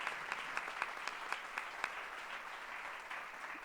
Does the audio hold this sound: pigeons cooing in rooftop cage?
no